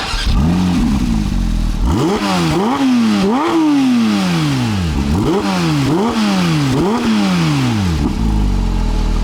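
A Porsche 992 GT3 engine starting up and revving, loud repeated sharp blips rising and falling several times in quick succession, close and alone without talk.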